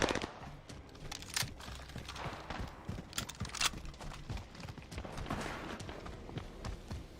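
Rapid gunfire from a Grau assault rifle in the video game Call of Duty Warzone, set on the Caldera map: dense, fast bursts of shots fire in quick succession throughout, loud and close.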